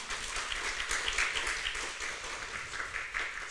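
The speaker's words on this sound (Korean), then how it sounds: "박수 한번 쳐줘요 그러면" An audience at a Won Buddhist lecture gives a short, steady round of applause. The clapping is dense and fairly soft, as if heard from within the hall.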